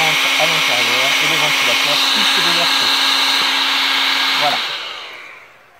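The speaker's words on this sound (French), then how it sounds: "il y a un petit ventilateur qui va pousser l'air chaud" Parkside thermal weeder's small fan blows hot air in a loud, steady whir with a constant hum, running for several seconds and then cutting off and winding down at the end; a voice speaks briefly over it.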